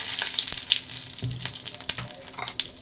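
Cumin seeds and a bay leaf sizzle in hot oil in a wok, a quiet crackling hiss with scattered pops and a few brief stirring clinks, no voices.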